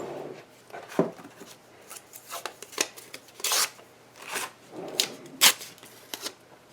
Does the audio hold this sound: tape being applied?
yes